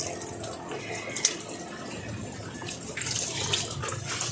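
Water is poured over an elderly man during a bath, a continuous close splashing and trickling flow that swells louder toward the end, with faint voices in the background.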